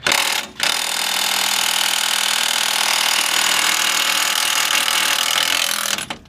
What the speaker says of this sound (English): get the impact on there. This is the electric.